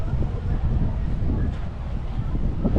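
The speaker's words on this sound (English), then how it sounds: "So let's get away from the wind." Wind gusting outdoors on a nature spot along the Turkish coast near Adrasan, a steady broad rumble buffeting the microphone throughout.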